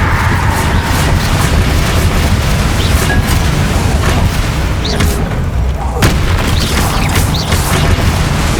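Fiery explosive spell blasts burst during a boss fight in the Hogwarts Legacy video game, with loud, dense rumbling booms and crackling impacts layered almost continuously over heavy combat noise.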